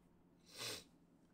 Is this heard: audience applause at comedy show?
no